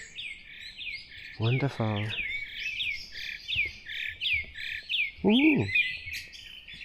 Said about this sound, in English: I can hear my favorite bird over there.